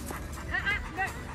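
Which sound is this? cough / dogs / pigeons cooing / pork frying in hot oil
dogs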